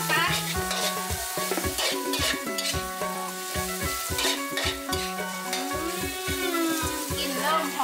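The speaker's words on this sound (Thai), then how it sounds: "ใส่พริกแห้งนะคะพริกกระเทียมตำให้มันแตกแล้วต้องผัดพริกให้หอมก่อนนะคะ" Dried chilies and pounded garlic stir-fried in a pan for a Thai-Lao bamboo shoot and minced pork basil dish, with steady loud sizzling and repeated scraping spatula strokes throughout, close up and no voice.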